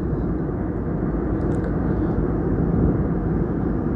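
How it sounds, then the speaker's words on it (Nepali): Steady low roar of airplane cabin noise during a Jazeera Airways flight from Kathmandu to Kuwait, constant and even throughout with no talk. "यति माथि उडिरहेको छ प्लेन"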